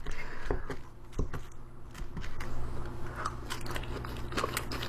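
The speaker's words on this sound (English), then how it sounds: "I'm gonna try out some of these dirty fries." Dirty fries eaten with a fork give close, quiet crunchy bites and chewing in irregular clicks and crackles, with no talking.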